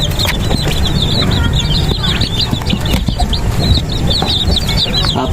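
Hens cluck continuously in a farm setting, dense overlapping calls and chatter from several birds close by, steady and fairly loud with no talking.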